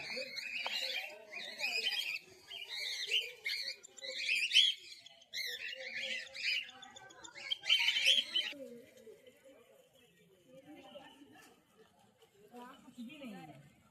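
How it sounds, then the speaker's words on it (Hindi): Colourful parrots at Kanpur Zoo give repeated shrill, chattering calls in bursts, fairly loud and close, while someone talks over them throughout. "यहाँ पे देखिए कई प्रकार के पंछी, तोता हैं ये, रंगीन कलर्ड।"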